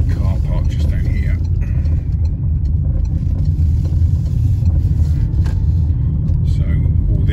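A micro camper pulls into a busy car park, its engine giving a steady low rumble throughout as a voice talks over it.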